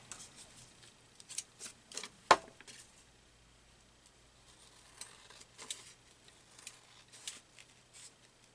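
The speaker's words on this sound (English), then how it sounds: "oh, I gotta cut that off" Scissors snipping paper while making a gel-plate mixed-media tag for a junk journal, a few quiet, close cuts with one sharp louder snip near the start, then soft paper handling.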